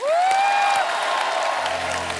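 Studio audience applause on The Kapil Sharma Show greeting a singer, a loud burst of many hands with a high, rising whistle-like tone riding over the start.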